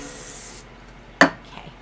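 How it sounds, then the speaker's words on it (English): Adhesive spray aimed at fabric pieces for a quilted table topper, heard as a steady hissing spray for about half a second, followed later by a sharp, brief rustle or tap. "Okay, so I'm gonna spray that and let me spray my background piece too."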